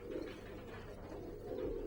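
Racing pigeons coo softly in a loft, a faint and steady murmur with no voices over it.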